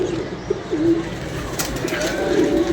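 Flying pigeons, back from their second release of the day, coo in a low, continuous murmur from several birds close by, with faint scattered chirps and background noise.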